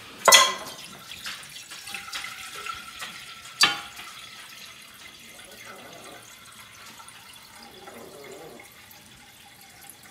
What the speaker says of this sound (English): we're gonna fill this with water.